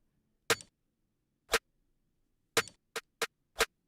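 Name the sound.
snare drum with little beep layered underneath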